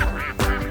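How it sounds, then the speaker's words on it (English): A couple of quick nasal quacks from cartoon ducks crowding a pond, close and loud in a brief burst. "There are so many ducks here."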